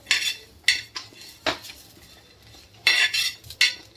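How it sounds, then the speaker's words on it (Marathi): A spoon scrapes and clinks in a pan while masala spices roast for amti, giving sharp, uneven metallic strokes, about eight of them, close and fairly loud, with quiet gaps between. "इकडे मी मसाला भाजते आमटी बनवायला"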